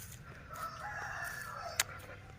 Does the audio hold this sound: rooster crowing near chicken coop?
yes